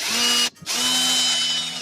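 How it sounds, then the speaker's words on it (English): A power drill whines steadily while boring through a gauntlet piece for a Boba Fett costume, with one brief stop and restart, close and loud, with no talking. "So I'm just going to drill through there."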